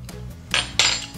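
A metal spoon clinks against a crockpot while stirring cube steak and gravy ingredients. Two bright, close scraping clinks stand alone over a quiet kitchen background.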